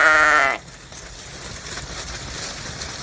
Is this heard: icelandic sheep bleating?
yes